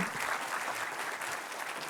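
Steady applause from a crowd at a corporate keynote event, dense clapping that holds at an even level throughout without pause.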